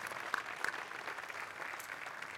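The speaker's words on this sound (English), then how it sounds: "let's give them a round of applause" An audience at an IoT solutions awards ceremony gives the nominees a round of applause, a sustained, even roar of many hands clapping in a large hall, heard alone.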